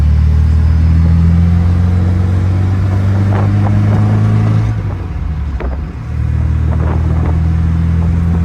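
1972 MG MGB Roadster engine heard from inside while driving, a loud steady low rumble with a brief dip around a gear change, then pulling again, alone without talk.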